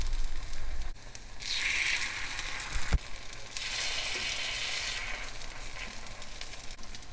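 Sago paniyaram frying in a pan, with a continuous close sizzle that swells and eases. A faint crackle and one sharp tap come partway through, and no voice is heard.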